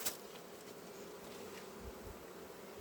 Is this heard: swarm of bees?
yes